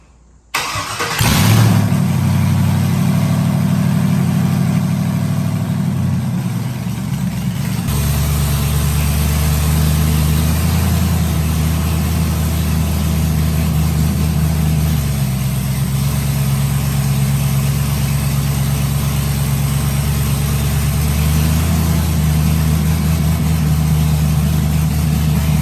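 A Ford Crown Victoria with a swapped-in LS V8 cranks, catches and then runs loudly and steadily close by, settling into a continuous engine drone for over twenty seconds.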